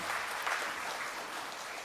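A brief, even burst of audience clapping in a hall during an inauguration ceremony for the Adhyaksa hall in Badung, Bali, moderately distant and unbroken.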